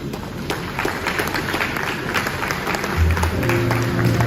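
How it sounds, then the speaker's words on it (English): An audience at a university inaugural lecture applauds steadily, a dense patter of clapping that swells slightly toward the end as a low tone enters. "with a resounding applause and a standing ovation, can we make welcome the 208th inaugural lecturer"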